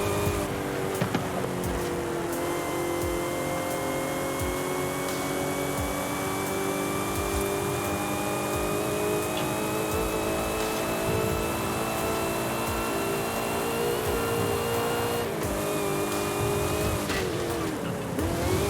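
A supercharged Nissan Safari in Forza Horizon 5 revs under sustained load, a steady, loud engine drone with rising and falling pitch and a whining supercharger layered on top, running continuously and close.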